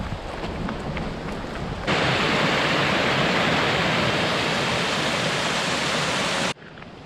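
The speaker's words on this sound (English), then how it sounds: "I can hear the creek down there, the creek that might also be my trail." A swollen creek flows in the Alaskan mountains, a broad, constant rushing wash of water. It grows sharply louder partway through, then drops back near the end.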